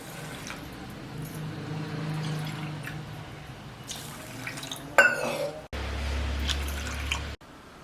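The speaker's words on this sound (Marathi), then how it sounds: "तांदळामध्ये दीड वाटी पाणी घालू" Water pours into a pot of rice in two short bursts, splashing and gurgling, with faint drips and clinks before it.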